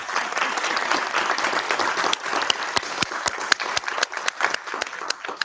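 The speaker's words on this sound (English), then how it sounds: "can we please give them another round of applause" Sustained audience applause at a 2024 National Junior Honor Society induction ceremony, a dense wash of many hands clapping, steady and close, with individual sharp claps standing out as it tapers toward the end.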